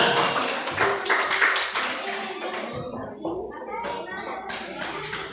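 Small group in a classroom peer-teaching session clapping for another group, a short patter of nearby claps that thins after three seconds as people begin talking.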